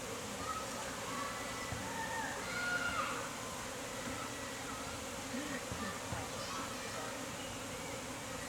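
A honeybee swarm shaken into a new hive fills the air with a dense, steady buzzing at a higher tone than usual, constant throughout, with faint voices underneath.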